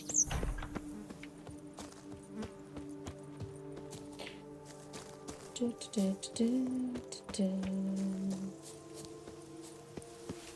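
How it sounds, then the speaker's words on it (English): A horse galloping in The Witcher 3, steady rhythmic hoofbeats throughout at low level, with a soft tonal musical background. "Even a horse drops if you ride it at a constant gallop."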